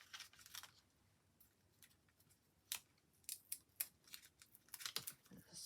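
Scissors snipping card while a Christmas card is made, a run of quick, crisp cuts that come in small bursts, close and fairly quiet.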